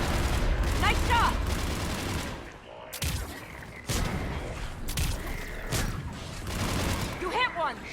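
Rapid gunfire bursts in Mass Effect 3 combat, loud and close, repeating through the stretch with brief pauses, mixed with game effects and occasional voices.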